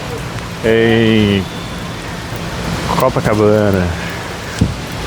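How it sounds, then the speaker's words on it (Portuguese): Heavy rain pours on the streets of Copacabana in Rio de Janeiro, a constant close hiss running the whole time. Someone talks over it, and a car passes faintly. "Uma chuvarada danada que tá no Rio hoje."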